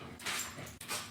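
A dog whimpers and yips in a short, fairly close burst of whining cries, broken by a brief pause before a second whine, with no talking.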